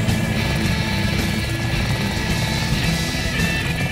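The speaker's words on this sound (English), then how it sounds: "our attack chopper is in auto hover mode, so we don't need to worry about it going anywhere" An Apache attack helicopter from the game ARMA 2 hovers in a steady, loud, unbroken rotor and engine drone with no voices.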